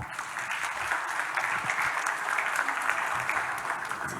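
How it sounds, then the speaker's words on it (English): Sustained audience applause at a conference opening ceremony, a dense even wash of clapping at steady loudness from start to finish. "Can we have a round of applause for that?"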